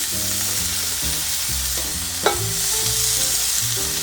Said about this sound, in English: we're going to start out by making our sausage patties that I'm going to put in his omelet